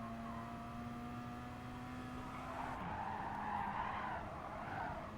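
In a racing video game, a race car's dirty tires slide and squeal through a corner under late braking. The skid is heard over a steady engine drone, moderately close and not very loud, with no talking.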